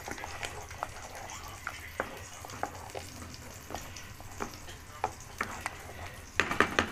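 Garlic fries in a pan for green molokhia, giving a steady close sizzle dotted with sharp pops and crackles that grow a little louder near the end.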